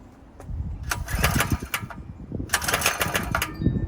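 A GoPowerSports Maverick 98 mini bike's small engine is pull-started, with two bursts of raspy cranking and sputtering close by over a low rumbling background, without fully catching.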